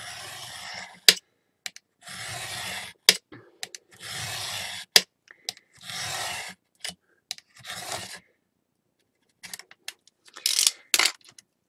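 Edge of a paper mini-album cover trimmed by about 1/16 inch, with several separate broadband rasping cuts spaced across the clip and sharp snips and clicks between them, close and fairly quiet, with no talking.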